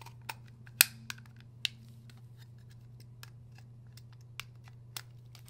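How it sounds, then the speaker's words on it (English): A flathead screwdriver pries the plastic tabs on a Toyota 4Runner hatch light lens, making a few sharp, close clicks and snaps spread out over a low steady hum in a quiet space. "Starting with the flathead, we need to release all four tabs around the perimeter."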